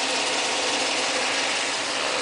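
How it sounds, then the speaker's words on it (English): A 2007 Toyota Tundra Crew Max engine idles steadily, a constant close hum and hiss with no change in pace over a couple of seconds and no voices. "Car's running, as I'm sure you can hear."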